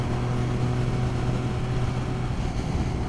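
A Triumph 900 Cafe Racer motorcycle with carburetor issues idles nearby, a steady loud low engine rumble with a throbbing pulse throughout and no talk.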